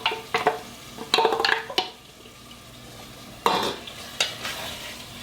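Chili and garlic paste being stirred and mixed in a frying pan while it cooks, giving scattered scraping clinks and short bursts of sizzling, with quiet pauses in between.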